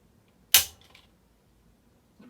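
A single crisp mechanical click from a dry-fire trigger pull on an empty-chambered Desert Tech SRS A1 rifle, sharp and close in a quiet room, with a faint softer tick just after.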